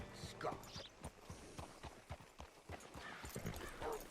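Horse hooves clip-clopping in Red Dead Redemption 2, a series of distinct close hoof strikes in an uneven walking rhythm over a soft ambient background, with brief game sounds between steps.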